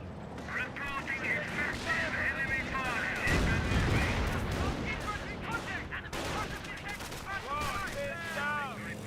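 Rifle and artillery fire in the Company of Heroes video game, a dense continuous barrage of gunshots, booming blasts and whizzing shells, loud throughout, with commentators talking over it.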